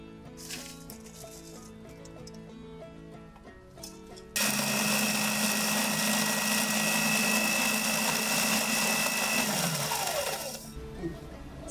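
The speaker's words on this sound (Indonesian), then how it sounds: "kemudian cabai yang sudah kita lakukan proses pengeringan tadi, kita akan blender" A kitchen blender grinds dried chili peppers in a loud, steady whirring roar that starts abruptly partway through and runs about six seconds before winding down, with quieter clinking and background sounds before and after.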